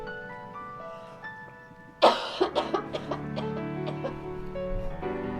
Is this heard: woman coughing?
yes